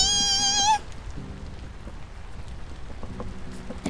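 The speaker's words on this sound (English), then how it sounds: "Lovely rain ambience." Soft rain ambience in the survival game Vintage Story, a steady faint patter with occasional drips that continues after a brief tonal chime cuts off at the start.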